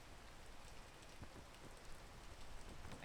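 Steady, dense rain from a rainstorm in the climbing video game PEAK, a continuous soft hiss of falling drops, fairly quiet and unbroken, with no talking.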